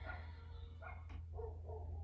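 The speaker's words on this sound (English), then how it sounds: "Sorry if you hear the dogs barking." Neighbours' dogs bark next door while someone walks a dog nearby, a few faint, distant yips and barks over a steady low hum, with no talk.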